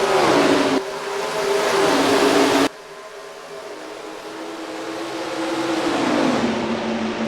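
Stock cars race in the NR2003 racing game, a loud, steady engine roar that shifts abruptly twice and then builds gradually as the pack speeds through the corners, with no talk.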